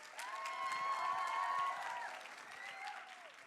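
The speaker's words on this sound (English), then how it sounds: "Round of applause, ladies and gents" A wedding reception crowd applauds and cheers for the newlyweds, steady clapping under a few rising whoops and voices calling out near the front.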